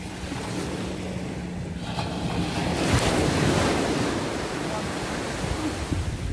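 Sea waves breaking on an island shore with a Caribbean-like beach, a continuous surf roar that swells into a louder crash midway before settling, with wind buffeting the microphone.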